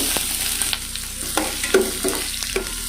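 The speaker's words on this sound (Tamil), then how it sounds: "நல்லா ஃப்ரை பண்ணிக்கோங்க." Onion, mustard seeds, urad dal, chana dal, dried red chilli and asafoetida fry in hot oil for a moringa leaf stir-fry, a steady close sizzle with crackling pops and scraping stirs of a spatula, no talk.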